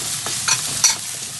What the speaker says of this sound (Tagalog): Halu-haluin muna natin siya, no?